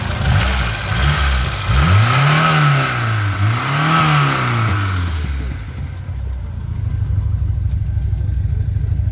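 A car engine revs up and down twice close to the microphone, loud and rising in pitch with each push, then falls back to a steady idle rumble.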